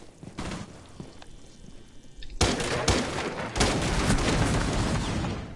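Pistol shots in a video game crack out as a handful of sharp, close reports, a couple spaced apart early and then several in quicker succession, leaving a loud ringing wash between them.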